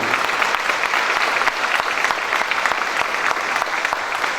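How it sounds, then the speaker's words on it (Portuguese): Applause fills a state legislative assembly session honoring a municipality, with loud, sustained clapping from a large crowd and a few sharper claps cutting through the steady roar. "com uma bela salva de palmas ao município de Casa Branca"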